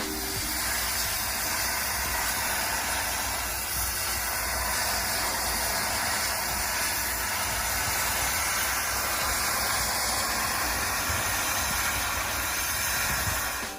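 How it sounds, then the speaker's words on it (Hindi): A steam cleaner blasting 150-degree steam onto a moss-covered roof gives a constant, loud, broadband hiss that holds steady throughout without breaks or voices. "ये स्पेशल डिवाइस कर सकता है जो पानी को 150 डिग्री तापमान पर गर्म करके भाप बना देता है।"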